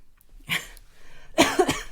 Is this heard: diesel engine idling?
no